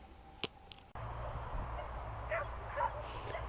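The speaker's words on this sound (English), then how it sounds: "Dog show going on today." Dogs at an outdoor dog show beside a canal bark and yip faintly in the distance, a couple of short sharp calls carrying over steady outdoor ambience.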